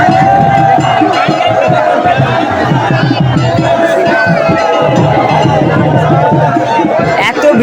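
A dense crowd at a Kali idol immersion procession, with loud, continuous babble, shouts and cheering close around and voices talking throughout.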